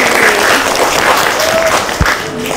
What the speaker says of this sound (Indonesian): Tepuk tangan untuk Kak Nurli.